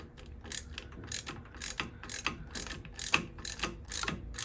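A hand ratchet tightening the floorboard bolts on a Harley-Davidson motorcycle, with quick bursts of close, crisp clicking strokes repeated in a steady back-and-forth rhythm.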